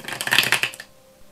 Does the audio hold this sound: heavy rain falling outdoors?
no